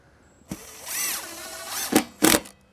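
A power drill drives screws into composite decking clips, up close: one longer rising whir, then two quick, sharp bursts as the screw meets resistance and stops. No talking.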